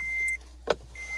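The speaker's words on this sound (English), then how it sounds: "I'm getting out of my truck and going into my house." Truck door and exit: a sustained electronic chime that stops, then a sharp near thump of a door closing, and the chime resuming afterward.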